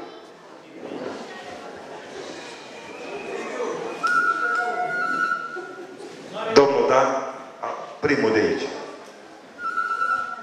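A shepherd's traditional flute, a fluier, plays a medley of thin, sustained whistling notes at a folk customs festival in the Dofteana area of Romania, over crowd chatter and someone speaking.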